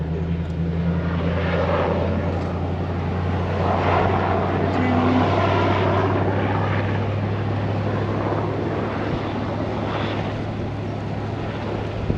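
A steady helicopter engine drone hums through the whole stretch, loud and continuous, as it flies over near an airport while people talk over it.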